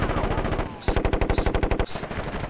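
Automatic gunfire in the video game Ghost Recon Advanced Warfighter 2: rapid, evenly spaced bursts of loud shots, one stream briefly giving way to a second, heavier rattling volley, dense and close.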